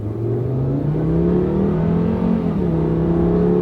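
A car accelerates hard on a short drag strip, its engine note climbing and then dropping with each smooth automatic gear shift, loud and close throughout.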